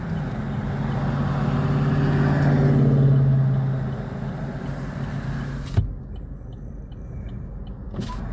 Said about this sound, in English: across the street right now, there's this yellow concrete truck stopping up traffic